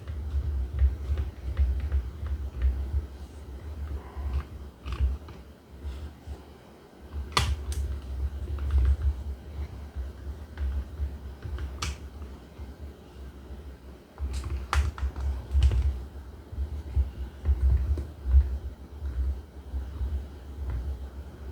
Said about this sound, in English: We're going to unscrew these 3 screws.